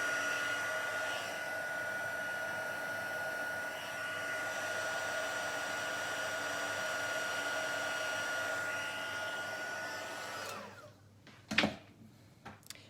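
A heat embossing tool blows hot air in a steady, even whoosh for about ten seconds, then cuts off, followed by a couple of sharp handling knocks.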